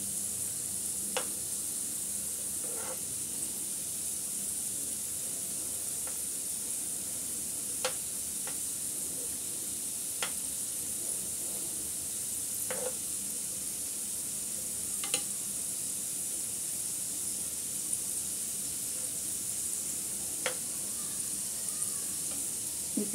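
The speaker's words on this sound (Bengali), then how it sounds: "এই পিঠেগুলো এইভাবে আমি উল্টিয়ে পাল্টিয়ে ভেজে নিচ্ছি সবগুলি" Flour-dough pithas fry in medium-low oil, a steady, even sizzle throughout with occasional sharp clicks and taps as the pieces are turned over in the pan.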